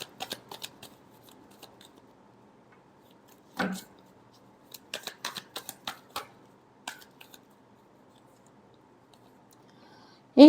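Tarot cards being shuffled and tapped close by in a quiet room, with scattered crisp riffles and flicks coming in irregular short clusters and one louder thump partway through.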